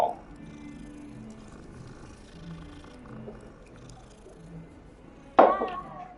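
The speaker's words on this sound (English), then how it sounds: "Oh, kitty. Kitty. Kitty." A cat in the Hogwarts Legacy video game purring faintly and steadily over a low rumbling game ambience, ending with a sudden louder sharp burst.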